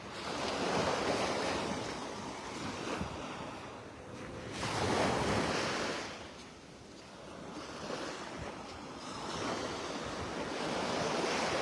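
Ocean waves wash onto a beach in North Naples, Florida, in broad surging swells that rise and fall every few seconds, with steady wind noise and no voices.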